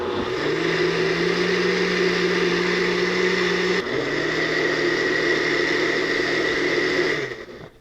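A food processor blends cantaloupe soup seasoned with cardamom powder, a loud steady motor whir with a brief dip partway through before it winds down at the end, with no talking.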